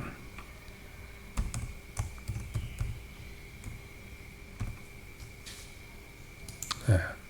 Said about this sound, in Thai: คลิกเอาเมาส์ไปคลิกนะครับแล้วก็ กด delete ไปนะครับ